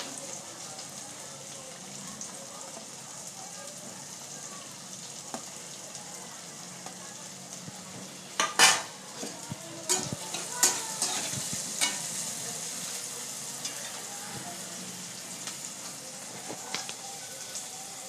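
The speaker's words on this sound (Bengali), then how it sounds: "তো চলো এবার দিয়ে দিই পেঁয়াজ কুচি" Chopped onion sizzles and fries in a pan for a chicken chilli recipe, a steady soft crackle with louder scraping stir strokes in the middle, close and alone.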